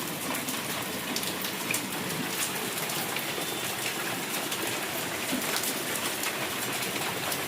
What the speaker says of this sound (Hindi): देखिए आप कितना तेज बारिश हो रहा है।